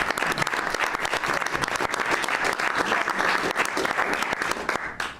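Applause from the seated audience at a White House cabinet meeting, steady dense clapping filling the room for about five seconds before cutting off sharply at the end.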